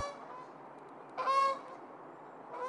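Canada goose at Burnaby Lake gives a short burst of loud, nasal honking in the middle, with another honk beginning at the very end against quiet outdoor background.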